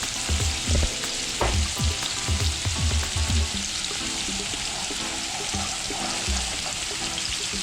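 Onions and vegetables for butter chicken sizzle and fry steadily in a pan, with a continuous hiss and a run of soft, irregular stirring knocks early on.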